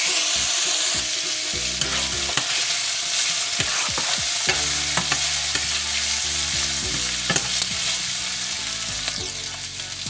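Pork ribs frying in a pan with onions for a Filipino pork mechado, a loud continuous sizzle broken by repeated scraping stirs of a utensil against the pan.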